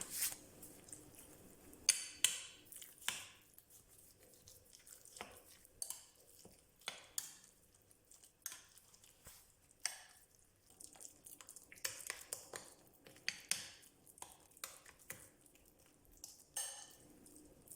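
Minced chicken is mixed with grated onion, salt and black pepper in a bowl, producing faint, irregular wet squelches and light clicks over a long stretch with no voices.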